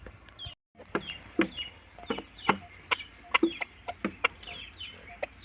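Roosters and chickens on a farm cluck in a run of sharp, irregular bursts, close and fairly loud, with a brief silent gap near the start.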